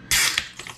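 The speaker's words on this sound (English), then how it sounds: "Crack open the can." A can of Guinness Draught Stout cracks open with one sharp, loud pop that runs into a brief fizzing hiss, then fades to a quieter rustle.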